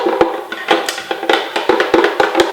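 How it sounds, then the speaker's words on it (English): A spatula scrapes plantain bread batter out of a blender jar in a quick series of sharp scrapes and taps, close up and with no talking. "Excuse the noise of me scraping out the blender."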